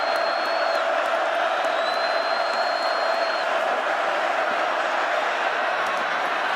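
Steady roar of a packed college football stadium crowd at a Florida at Missouri game, loud and continuous throughout with scattered whoops rising above the din.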